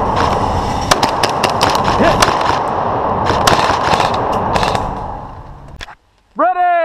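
A KWA MP7A1 gas airsoft submachine gun fired semi-auto during CQB field gameplay, a fast run of sharp cracking pops over loud background noise, followed by a pause and a brief shout.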